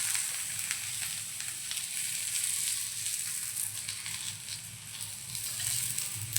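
Thalipeeth flatbread fries in ghee on a hot pan, giving a steady, soft, close hiss with light crackles throughout and a small pop at the end.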